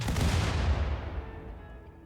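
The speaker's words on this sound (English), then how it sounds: "And now, open fire." Colonists opening fire in the game Rimworld, a dense burst of overlapping gunshots that rumbles loudly for about a second, then decays into a fading tail, with no voices.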